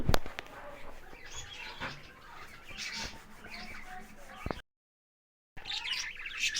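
Small birds chirp and tweet in scattered, high bursts close by, with a short silent gap before the chirping resumes.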